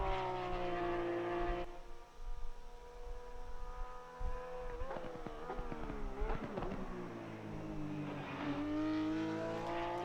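A Porsche 911 GT3 R engine in Assetto Corsa Competizione howls around Silverstone. The pitch climbs and drops through gear changes and braking before building again, loud and continuous throughout.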